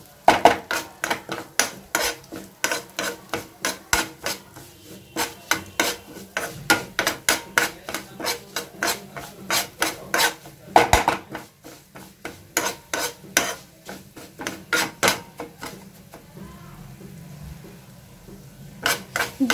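Carom seeds roasting in mustard oil in a pan are stirred steadily, giving a long run of rhythmic metallic scrapes and clinks over a faint sizzle, with no one speaking.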